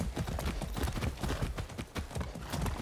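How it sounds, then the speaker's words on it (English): Horse hooves clip-clop steadily in the Far Cry 6 video game, a dense, continuous rhythmic trotting close up and fairly loud, with no talk over it. "That's a good horse."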